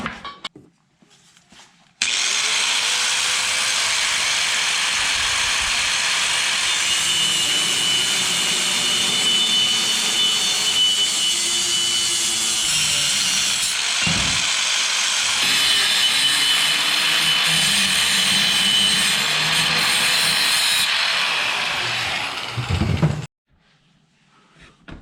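A hand saw cuts through wood for a homemade roof rack. The rasping strokes are loud and close and run steadily for about twenty seconds before stopping.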